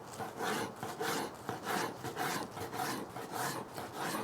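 A knife cuts through a cooked, juicy sausage stuffed like meatloaf in a casing, with vegetables inside. Steady close rasping and rubbing strokes repeat about twice a second, with no talking.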